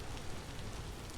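Rain in the video game Vintage Story, a steady, dense hiss of falling rain with no other sounds, heard briefly.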